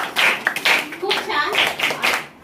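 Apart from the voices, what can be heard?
children clapping loudly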